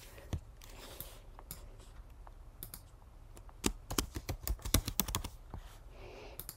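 Mouse clicks on a computer while building a rubric in Schoology, heard as a scatter of sharp, close ticks that cluster more densely toward the end, with no talking.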